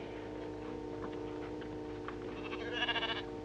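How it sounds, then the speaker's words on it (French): Sheep bleat in a cave where milk is drawn, a steady flock sound beneath a sustained musical drone, with a louder burst of bleating near the end. "Les moutons! Les moutons!"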